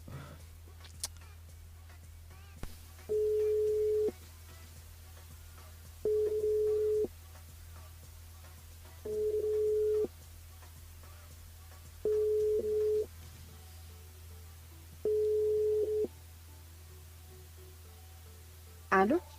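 A telephone ringback tone repeats five times in steady, evenly spaced bursts over a low constant hum while a call is placed to a listener during a live radio broadcast, with no talking over the rings.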